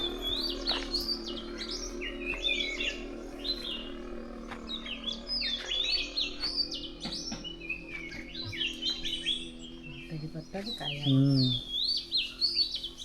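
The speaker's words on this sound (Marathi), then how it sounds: "मस्तपैकी पक्ष्यांचा किलबिलाट भाग आहे" Lots of small birds chirping and tweeting at a rural village home in the Konkan countryside after rain has begun, their overlapping high calls running steadily over a low background hum with a faint voice briefly near the end.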